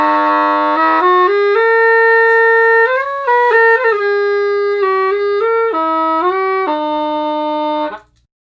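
A soprano saxophone fitted with a homemade free-reed adapter to imitate a bawu plays a bright, reedy melody of sustained notes with a few quick ornaments, solo and up close.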